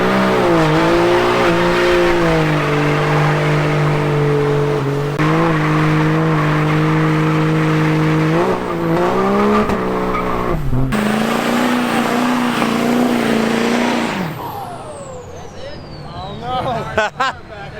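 At a car show, a car does a burnout: its engine revs loud and close in repeated surges, then tire squeal and rough roaring noise follow, with voices mixed in.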